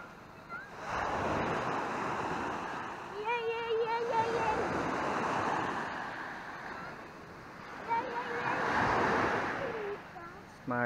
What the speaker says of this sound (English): We're here now at Puka Beach